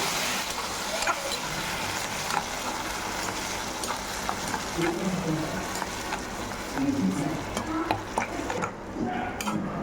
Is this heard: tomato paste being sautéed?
yes